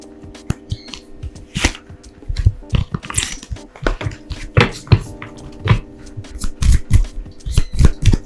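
Angel Therapy oracle cards are shuffled by hand in a continuous run of crisp riffling flutters and soft taps. The sound is close and busy throughout, with a faint steady hum underneath and no speech.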